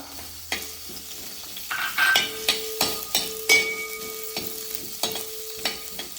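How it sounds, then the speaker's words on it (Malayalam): Green chillies added to a hot pan for a Kerala-style chicken roast, giving a steady close sizzle and frying hiss broken by several sharp clinks and scrapes of a spoon stirring against the pan, with no talking. "നമ്മൾ പച്ചമുളക് ഇട്ട് കൊടുത്തിട്ടുണ്ട്."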